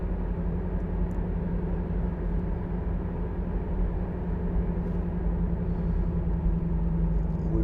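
A 2011 Honda CR-Z 1.5 IMA Sport cruises at 50 mph, a steady low engine and road rumble droning evenly inside the cabin.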